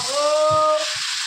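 A paste of ground spices, dried red chillies and whole garam masala is fried in a pan, giving a continuous bright sizzling hiss with a faint tonal hum over its first half.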